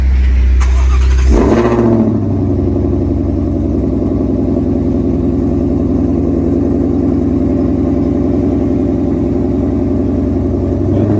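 A Ford Shelby GT500 engine revs hard up close, then settles into a loud, steady rumbling idle that holds for several seconds.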